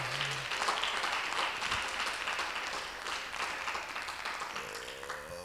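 A church congregation applauds together in steady, moderately loud clapping that fills the space, with a faint low tone and a few stray voices in the background.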